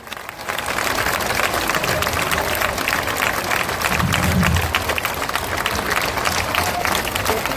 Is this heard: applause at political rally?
yes